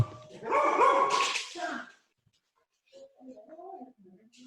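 Several dogs bark at a UPS delivery driver arriving at the house, a loud burst of barking at first, then quieter, more distant yaps.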